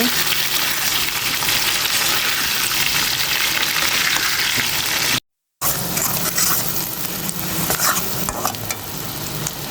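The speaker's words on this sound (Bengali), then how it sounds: "পেঁয়াজটা ভালোভাবে ভেজে নেব।" Onions fry in a pan while being stirred, a loud close sizzle with scraping stir strokes, briefly cut off midway before the frying noise continues.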